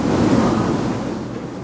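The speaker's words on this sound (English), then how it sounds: "Large fans blow cooling air while spraying machines pump out water mist." Large cooling fans blow air and water-mist sprayers hiss in a dairy cow barn in Taiwan, a loud, steady rushing roar with no voices.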